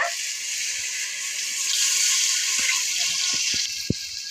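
Water is poured into a pot for bagara rice as a steady rushing, hissing stream, close and fairly loud, ending with a few soft knocks and a sharp clink.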